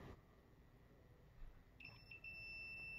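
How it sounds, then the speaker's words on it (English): A multimeter set to continuity mode gives a steady electronic beep that starts partway through and holds, high-pitched and clear over faint background hiss. "I have my multimeter on to a setting that it just beeps when you have continuity"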